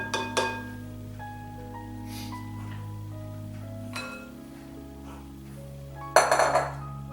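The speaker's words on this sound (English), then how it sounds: "So just working with these two spatulas makes it really," Two spatulas work rhubarb pie filling in a dish, giving a few brief clinks and scrapes against the dish near the start and again near the end over steady soft background music.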